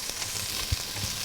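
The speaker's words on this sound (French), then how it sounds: "on sent une bonne odeur d'oignons qu'on fait sauter" Onions sautéing in a hot pan, a steady crackling sizzle with a few soft knocks from stirring, at moderate volume with no talking.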